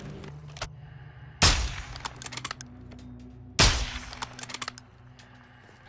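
Two sharp gunshots ring out in Call of Duty DMZ during a night match, each a loud crack with a decaying tail, spaced about two seconds apart amid quieter game ambience.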